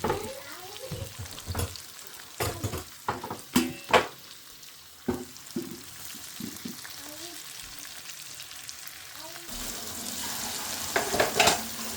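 Fish fry cooking in a pan, a steady low sizzle running underneath while utensils clatter and stir in sharp, irregular knocks, with a short stretch of quieter frying before the hiss brightens near the end.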